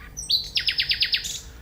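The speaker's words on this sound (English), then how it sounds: "I couldn't believe that was a nightingale, this bird that sounded like kind of electronic music" A nightingale sings a short phrase: a rising whistle, then a rapid series of six sharp, repeated electronic-sounding notes and a final higher note, close and clear against a quiet background.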